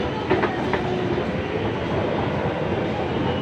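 A Kolkata metro train runs through the tunnel beneath the Ganges, giving a steady, loud, enveloping rumble with a few sharp wheel clicks near the start and no voices.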